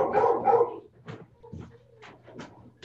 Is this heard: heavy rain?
no